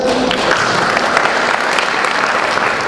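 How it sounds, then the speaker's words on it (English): An audience breaks into loud, sustained applause after a talk, dense, even clapping that holds steady throughout with no voices over it. "Let's give it a round of applause."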